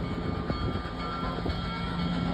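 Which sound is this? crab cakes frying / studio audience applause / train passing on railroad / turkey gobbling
train passing on railroad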